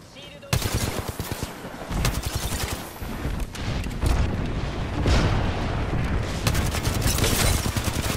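Airstrike blasts and rapid gunfire from the battle royale game Apex Legends, dense and loud throughout, with bursts of automatic fire and heavy booms rolling together, broken by brief dips before the barrage resumes.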